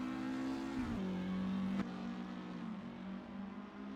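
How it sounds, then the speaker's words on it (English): Race car engines roar steadily in Assetto Corsa, Porsche 718s at Bremgarten, revving and shifting pitch with a sharp transient midway, then settling into a sustained drone. "You can just barely hear the other cars arriving in the scene as well."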